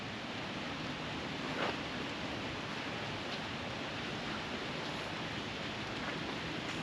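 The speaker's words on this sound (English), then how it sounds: "it is apparently raining really, really nicely outside" Rain falls steadily outside, a dense even hiss of drops with no voices, constant and moderately loud throughout.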